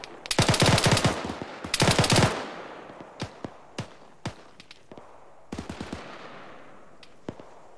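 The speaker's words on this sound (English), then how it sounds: "I'm still hearing shots and seeing muzzle shit east" Gunfire during a military field training exercise: two loud bursts of rapid automatic fire near the start, then scattered single shots and short strings at varying distance, with no talk.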